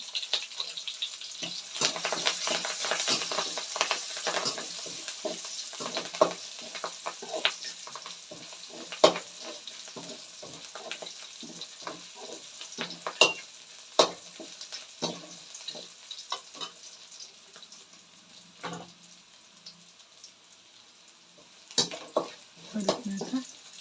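Curry leaves frying in a pan for horse gram sambar, with a hissy crackling sizzle under irregular clinks and scrapes of stirring, close by and continuing steadily.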